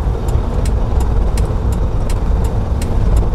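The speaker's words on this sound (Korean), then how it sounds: "자 이제 좌측 깜빡이 켜고 엑셀 조금 더 밟을게요" A car's engine runs at a steady low rumble during a manual-transmission driving lesson, with a left turn-signal indicator ticking in an even rhythm over it. The engine is close and continuous throughout, and no one speaks.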